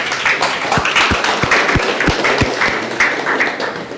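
An audience applauding steadily at a startup pitch event, many hands clapping at once with a few louder, distinct claps standing out in the mix.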